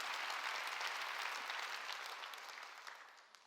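Church congregation clapping during a sermon, a dense, fairly faint wash of applause from many hands that gradually fades toward the end.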